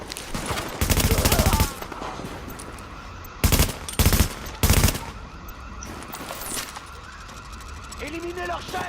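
Loud bursts of automatic gunfire from a weapon in The Division video game ring out in several rapid volleys, with people talking between them.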